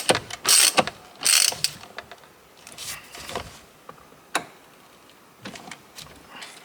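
A ratchet drives a T50 Torx bit to tighten a bolt during a truck build in a workshop. Close, loud bursts of rapid pawl clicking alternate with single sharp clicks and brief pauses.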